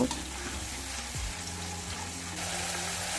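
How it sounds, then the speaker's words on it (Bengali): Onion paste frying in oil with cumin and dried chilli: a dense, even sizzle throughout, with a brief low clatter near the start and no talk. "পেঁয়াজটাকে কিছুক্ষণ নেড়ে চেড়ে ভেজে নেব"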